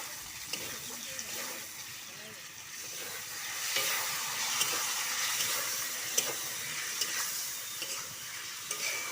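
Curry with a little added water being stirred and sautéed in a pan on a gas stove, a soft steady sizzle and hiss with intermittent scraping stirs, moderately quiet and close, no talking.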